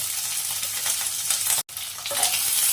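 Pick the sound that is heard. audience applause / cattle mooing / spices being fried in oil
spices being fried in oil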